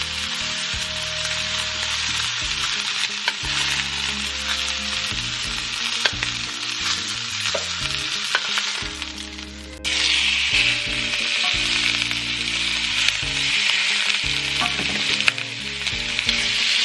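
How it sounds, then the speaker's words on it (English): A second batch of barbacoa meat sears in a hot heavy pan with a continuous loud sizzle, occasional stirring and scraping, and a sudden jump in sizzle intensity partway through. "I just placed my second batch of meat. So I am going to sear them for 6 minutes."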